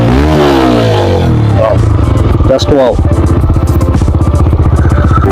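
A TVS Raider motorcycle engine revs loudly and close, climbing and falling in pitch before settling into a rapid, throbbing idle, while someone talks over it.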